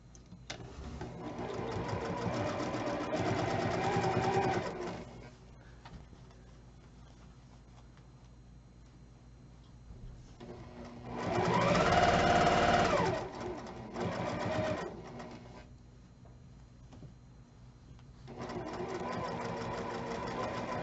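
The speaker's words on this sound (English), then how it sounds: "I'm going to sew the 3rd section." A sewing machine stitches fabric sections of a triangle pillow in three separate close, steady whirring runs of several seconds each, with quieter pauses between them.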